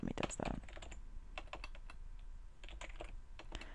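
Typing on a computer keyboard, quick irregular bursts of clicking keystrokes close up, fairly quiet, with no talk over them.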